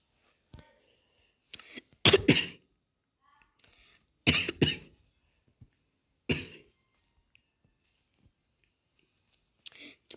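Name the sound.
person coughing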